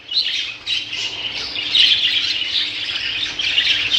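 Budgerigars and canaries in a pet shop chirping and squawking continuously, a dense, bright chorus of many birds at close range with no talk.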